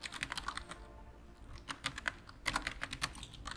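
Rapid, uneven clatter of keys on a computer keyboard while entering text into a design program, close and clear with short bursts and brief pauses, no voices.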